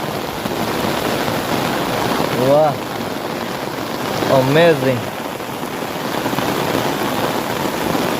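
Heavy monsoon rain pours steadily in the Gir countryside as a dense, close wash of noise, while people briefly talk and exclaim over it.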